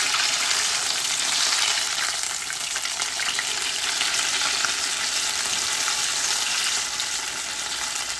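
Peach mango dough hand pies fry in hot oil with a steady, close, dense sizzle and crackle that runs continuously, no voices over it.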